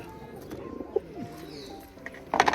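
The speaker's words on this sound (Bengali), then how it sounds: "এখানে টেডি পায়রা এই যে ডিমে বসে আছে" Teddy pigeons in a loft coo softly nearby, with low, throaty calls and faint background noise, while one sits on eggs, ending in a brief louder flutter or clatter.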